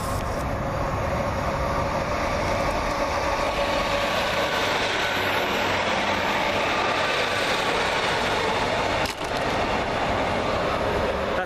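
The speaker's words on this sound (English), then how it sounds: "A light engine movement." A light engine locomotive running along the railway at Small Heath, a steady loud rumbling drone of engine and wheels sustained throughout without a break.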